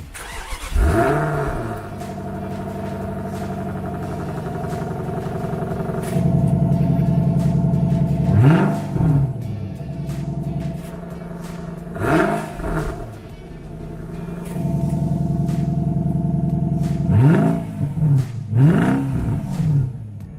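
Car with its exhaust cutout opened revs repeatedly, several loud roaring blips rising and falling over a steady rumbling idle, close and with no talking.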